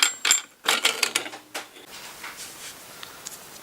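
Ratcheting and metallic clicking from a wrench removing a nut while a clutch spring is compressed on a nitro engine, a quick run of close, sharp ticks that fades into quiet.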